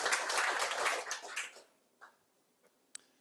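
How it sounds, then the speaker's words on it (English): Brief applause from a small awards-meeting audience, a dense patter of clapping that fades after about a second and a half, leaving a few scattered claps and faint noises. "So a round of applause for Larry"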